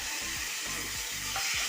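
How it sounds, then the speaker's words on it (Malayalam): Cooked squid tossed into sautéed onions in a hot pan, a continuous bright sizzle with repeated stirring scrapes roughly every half second, close and steady, no voices. "നമുക്കിതിലേക്ക് ഇനി വേവിച്ച് വെച്ചേക്കുന്ന കണവ അഥവാ കൂന്തൽ ഇട്ട് കൊടുക്കാം"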